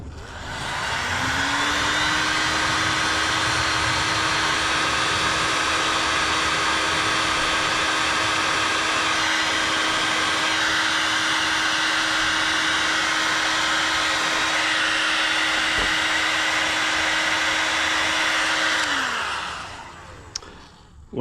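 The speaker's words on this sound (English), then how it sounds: "So I thought maybe I might just try with a heat gun initially, just to bend it all together" Heat gun blowing hot air to soften a damaged ABS plastic RC boat hull, a steady, loud whirring hiss that starts, holds evenly for about eighteen seconds, then winds down.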